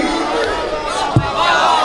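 Crowd at a Shia majlis memorial gathering shouting the Nara-e-Haidari slogan together, a loud, dense mass of voices with a sharp accent near the middle.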